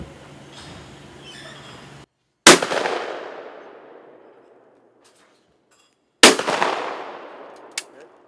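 Two loud shotgun blasts fired at clay targets outdoors, each a sharp crack with a long decaying echo, spaced about four seconds apart, after brief faint background noise.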